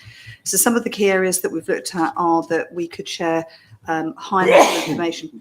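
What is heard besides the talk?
sneeze during a meeting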